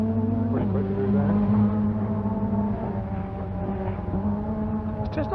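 A 1998 Vauxhall Astra kit car rally car on a Rally of Wales stage drives past, its engine a steady sustained drone with shifting pitch as it passes, fairly loud and continuous with no talk.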